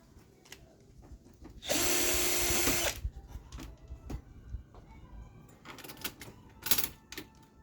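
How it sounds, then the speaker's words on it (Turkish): A power driver with a flat screwdriver bit spins a single screw out of a server case in one loud whirring burst of about a second, surrounded by quieter clicks and handling clatter nearby. "Şurada bir tane tekli vida var. Düz tornavida ucuyla söküyorum."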